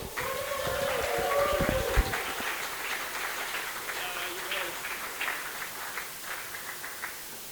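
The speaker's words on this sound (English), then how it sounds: "Start clapping, cheering and whooping for Monty Alcock." A conference audience at a Sheffield forum bursts into clapping, cheering and whooping, the applause swelling then thinning out into scattered claps over several seconds.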